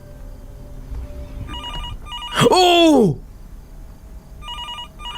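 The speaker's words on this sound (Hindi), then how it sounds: "ओके, टेलीफोन बज रहा है" An old telephone rings in a horror video game set at night, with a loud, close, warbling bell burst and fainter repeated electronic ring tones before and after it, while a man briefly exclaims.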